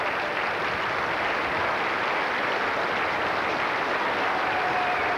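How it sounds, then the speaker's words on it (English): Steady sustained applause from a cricket crowd at a New Zealand v England Test match in Christchurch, greeting England reaching 500 runs; even, continuous clapping throughout, fairly distant and broad, with no clear talk. "Applause for England's 500 for the loss of six wickets."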